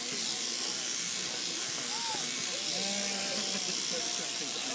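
Electric clippers shearing a sheep at a village day event, a steady buzzing hiss running throughout while people talk nearby and faint animal calls rise over the drone.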